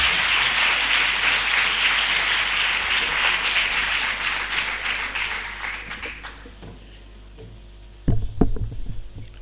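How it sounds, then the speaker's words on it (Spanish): Loud audience applause welcoming an Italian educator to the stage, a dense steady wash of clapping that fades after about six seconds, followed by a few close thumps and handling noises near the end. "Le damos la bienvenida con un muy fuerte aplauso"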